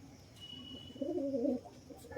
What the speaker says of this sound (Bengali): এইসব পায়রাগুলো আসছে, সন্ধ্যা হয়ে গেছে প্রায়।